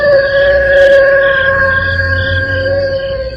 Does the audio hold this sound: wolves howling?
yes